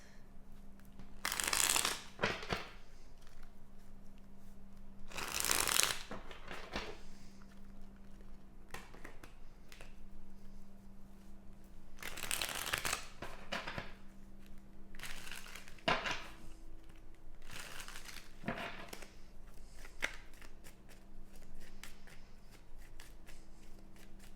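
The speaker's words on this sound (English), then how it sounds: "So difficult to shuffle this deck." A deck of cards is shuffled repeatedly in a quiet room, with bursts of riffling and crisp flutters about every few seconds, moderately close and without talk.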